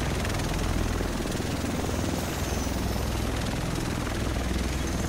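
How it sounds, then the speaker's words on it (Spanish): A helicopter flies in the video game The Division, its rotor a steady, loud, continuous drone with low thumping throughout, heard alone without talk. "El resto tienen que estar en ese helicóptero."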